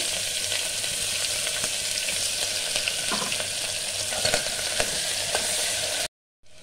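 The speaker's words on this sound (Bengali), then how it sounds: "আমি কারি পাতা আর পেঁয়াজটা দিয়ে দিচ্ছি।" Curry leaves and onion frying in oil with turmeric dal, mustard seeds and cumin, a dense steady sizzle close up with a few light stirring clicks, cutting off abruptly near the end.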